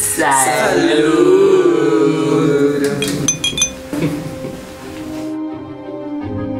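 Glasses clink together in a toast at a Halloween gala, a bright cluster of chimes ringing out over festive crowd chatter and voices before fading into quieter room noise.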